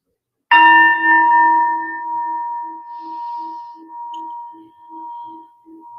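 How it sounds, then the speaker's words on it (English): A single gong struck once in a quiet room, a bright sudden hit that rings on with a long shimmering tone and a slow pulsing wobble as it fades over several seconds. "Let's start with the gong, one of the gongs, this one."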